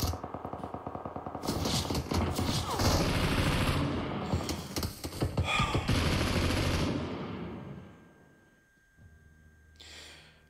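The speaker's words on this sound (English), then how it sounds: "M762 recoil was all over the place." Automatic M762 rifle fire in PUBG Mobile, loud sustained bursts of rapid gunshots close up for several seconds, then fading out with a brief faint burst at the end.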